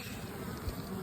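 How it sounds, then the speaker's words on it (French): Honeybees swarm a sunny apiary, feeding on alder pollen, in a dense, steady close-up buzz that holds evenly throughout with no voices. "Petites abeilles contentes."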